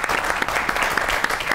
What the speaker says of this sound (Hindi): बहुत ही बड़ी ताली होनी चाहिए